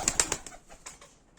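A karakuyruk pigeon, a caught stray male, gives a few soft, close coos in quick succession, trailing off into quieter murmurs.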